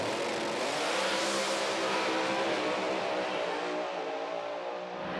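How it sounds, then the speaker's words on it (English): A drag race car at the US Street Nationals, Bradenton Motorsports Park, accelerates hard through a 5-speed gearbox, a loud roaring engine rising and shifting before fading into the distance. "We get to hear this car run through this 5-speed."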